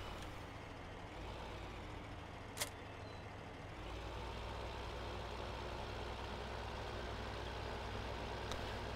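A tractor engine in Farming Simulator 15 drones at a constant low, heavy pitch, with one brief click partway through.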